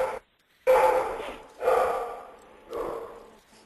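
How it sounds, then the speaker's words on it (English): A dog barks in the background during an online webinar, three loud yelping bursts about a second apart, each with a breathy tail, and no talk over them. "whoever's got the dog barking in the background, would you mind muting?"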